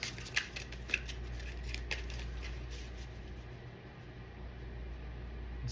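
Tarot cards being shuffled, giving a few quick papery riffles and flicks near the start, then a steady soft rustle over a low background hum.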